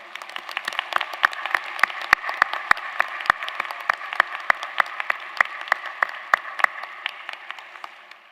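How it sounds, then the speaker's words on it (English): Applause from the audience at a UCF spring commencement ceremony, a steady wash of clapping with distinct individual claps popping out, moderately loud and continuous. "show appreciation with resounding applause for all of these wonderful people"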